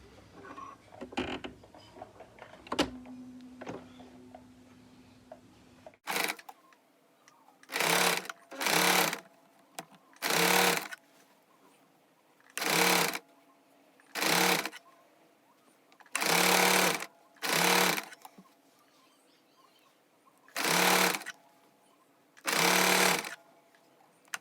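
A sewing machine stitches lace onto a trouser hem in loud, close bursts of rapid whirring, about nine runs separated by short silences. Quieter handling noises and a brief hum come first.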